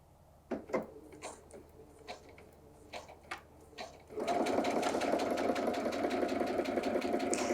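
A sewing machine with a walking foot stitches a fusible foam quilt, starting after a few clicks and taps and then running as a steady, close, rapid mechanical whir.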